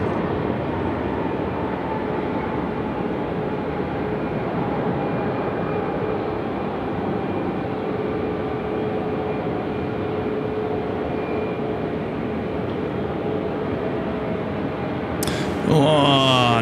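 A jet airliner landing at Sydney Airport roars with a steady broadband rumble and faint whining tones, loud and sustained, with a brief burst of other sound near the end.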